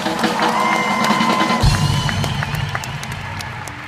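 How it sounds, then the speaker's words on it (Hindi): An audience claps and cheers for a comedian on a comedy stage show, with loud, dense applause and whoops up close that swell and then hold steady for several seconds. "मैं सीरी चंदन के लिए जोरदार तालियां हो जाए एक बार"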